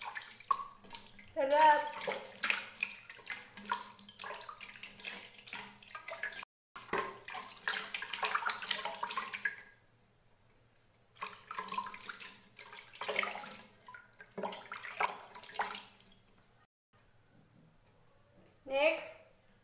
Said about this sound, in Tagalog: babasain natin ang ating face ng warm water